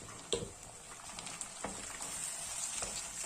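Chopped tomatoes sauteing with softened onions in a pan for a dried-fish thokku, giving a soft, steady frying sizzle with a few faint stirring clicks and no talking.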